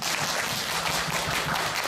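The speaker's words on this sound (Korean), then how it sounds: "다시 큰 박수 부탁드립니다" Loud, dense clapping from a talk-concert audience, continuous and close for the whole short burst, with no voices over it.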